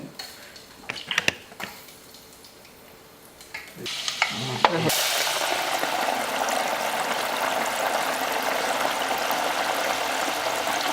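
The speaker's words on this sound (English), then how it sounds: "straight into oil at 375 for around 6-7 minutes, whatever it takes to get them golden crispy on the outside" French fries drop into deep oil at 375 degrees after a few clattering knocks, and a loud, steady, broadband sizzle then fills the rest of the clip close up.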